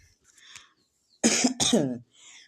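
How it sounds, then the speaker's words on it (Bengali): A person coughs hard twice in quick succession, loud and close, with a few fainter throat sounds before and after. "অনেক কাশি।"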